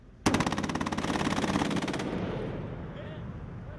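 An AN/TWQ-1 Avenger air defense system fires a sustained machine gun burst of about two seconds, a loud, rapid, evenly spaced rattle that stops abruptly and leaves a rumbling outdoor echo fading away.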